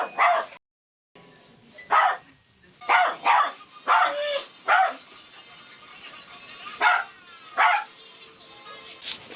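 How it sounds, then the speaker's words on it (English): A dog barks outside at night in short bursts, about a dozen sharp barks spaced irregularly, moderately near against a quiet background. "When one of his dogs starts barking again, he goes outside to check it out."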